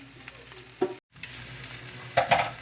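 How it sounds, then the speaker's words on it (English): Greens and wild pokeweed frying in bacon grease in a pan give a steady, close sizzle with a few louder stirring bursts and one brief drop to near silence. "we cooked our greens in the bacon grease"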